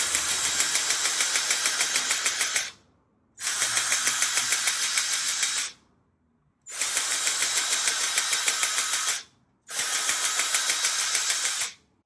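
A cordless paint sprayer on speed 1 runs in four bursts of about two to three seconds each, a loud, steady buzzing hiss with a fast rhythmic pulse, each burst cutting off cleanly into brief silences.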